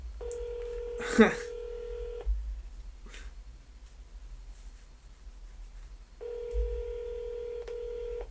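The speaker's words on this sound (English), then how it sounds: "It's actually ringing this time though. It's ringing." A telephone rings during an outgoing call, with two long ringback bursts of a steady tone, one at the start and one near the end, separated by a quiet pause. A brief voice and a click are heard early on.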